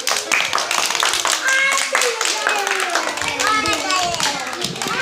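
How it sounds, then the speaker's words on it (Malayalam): A group of children claps hands together in quick, uneven bursts, with young voices chattering and talking loudly over the clapping throughout. "ഇനി എല്ലാവരും കൈയടിച്ചേ"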